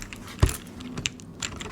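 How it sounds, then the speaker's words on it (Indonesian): Spacebar of a Vortexseries Mono keyboard rattling as it is pressed: a few sharp close clicks with one heavier thump and lighter taps between, no talk. "Spasinya sih dua-duanya masih agak sedikit rattle."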